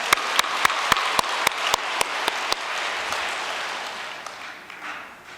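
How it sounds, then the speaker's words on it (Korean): A church congregation applauds at a New Year's prayer service, a dense wash of clapping with a few sharp nearby claps standing out in a steady beat, then slowly thinning and fading away. "우리 참부모님께 감사의 박수 한번 부탁드리겠습니다"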